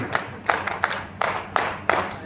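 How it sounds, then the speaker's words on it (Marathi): Sharp, energetic hand clapping from an audience at an honour ceremony held by a Sai bhajan group in Virar, greeting a volunteer; the claps come in dense bursts with a steady crowd-applause wash between them. "नक्कीच त्याच्यासाठी जोरदार टाळ्या वाजल्या जात आहेत"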